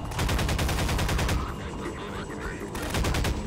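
Rapid bursts of automatic gunfire from a weapon in the video game Half-Life 2, loud and close, with a brief pause mid-burst before firing resumes.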